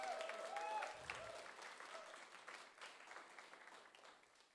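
An audience at an unplugged concert gives sustained applause that starts fairly full, then thins and fades. Faint tonal sound is heard at the very start.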